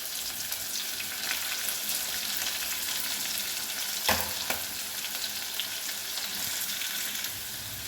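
Onion and green chili pieces fry in a pan for a chickpea chole masala curry. A dense, steady sizzle continues throughout, with a brief stirring clatter midway.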